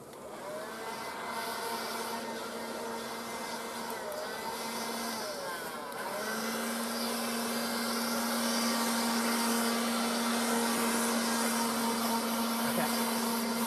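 A small handheld blower roars steadily while blowing bees off a hive during winter brood work outdoors, a continuous motor whine that dips briefly midway and then resumes slightly louder, with a voice faintly under it.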